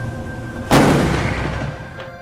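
Argentine Coast Guard vessel fires a single shot toward a Chinese squid jigger off Patagonia: one sudden loud boom, then a long rumbling decay over steady engine and wind noise, with no voices.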